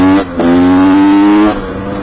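Cold 1988 125 CR two-stroke motocross engine revving nearby: a brief blip, a short dip, then a steady high rev held for about a second before settling back toward a rough idle.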